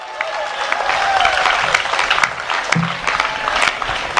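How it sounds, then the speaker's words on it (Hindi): Crowd applause at a Hindi comedy poetry gathering, a hasya kavi sammelan, with steady clapping from many hands, a few louder claps standing out and faint background murmur. "आपकी तालियां, जरा हाथ खड़े हो मेरे भाई।"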